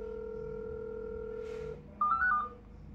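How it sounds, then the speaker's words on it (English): A Telegram video call on a phone rings out, a steady electronic calling tone that cuts off and gives way to a brief higher warbling chime, clear and close. "let me call myself with video call from my second phone"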